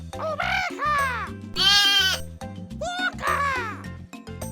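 A sheep bleats several times in a children's animal sounds program, with wavering, nasal calls near and loud over cheerful background music.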